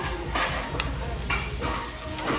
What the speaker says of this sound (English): That is some sizzling beef.